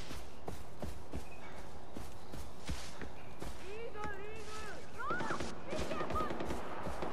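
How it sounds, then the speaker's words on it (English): Gunfire in the video game Far Cry 4: a rapid scatter of sharp cracks and thuds spread across the scene at mid distance, with a voice talking over part of it. "They're shooting!"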